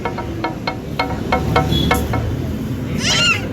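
A cat meows once near the end of the recording. Before it comes a series of regular sharp taps or clicks in a quiet domestic room.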